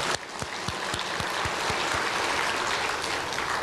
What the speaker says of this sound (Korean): 고개 숙여서 박수 치면서 이뇨한 박사님 고맙습니다.